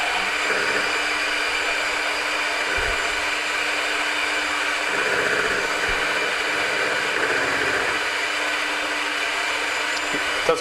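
An electric hand mixer whipping cream gives a continuous high, even whirring buzz, loud and close, with faint clinks against the bowl and no talking.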